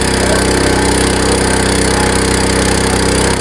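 A mini power tiller's small engine runs steadily and loud while tilling soil in a farm field, a constant droning chug with no break and no voices.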